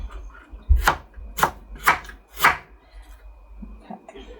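Knife chopping onion on a chopping board in a home kitchen: four sharp, evenly spaced blade strikes on the board, close and clear, followed by quieter handling sounds.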